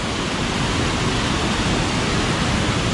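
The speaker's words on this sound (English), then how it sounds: "take a look at that waterfall from this angle" A waterfall swollen by recent rain roars as a steady, dense, broadband rush, loud and close with no breaks and no voices.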